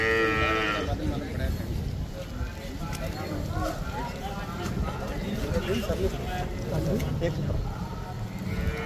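Murrah buffalo at a crowded cattle market, with loud, repeated lowing moos over steady crowd noise and people talking nearby throughout.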